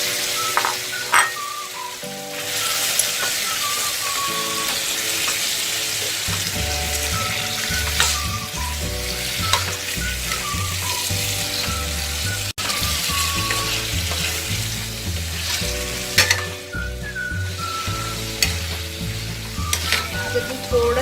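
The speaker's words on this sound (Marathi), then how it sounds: "आलं लसूण पेस्ट लावलेलं मटण जे आहे ते आपण ह्यात घालून परतून घेणार आहोत" Mutton coated in ginger-garlic paste sizzles and fries steadily in a pan with spiced masala for a dry mutton dish, with occasional stirring and scraping clinks over a continuous loud hiss, no talk.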